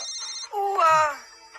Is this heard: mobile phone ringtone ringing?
yes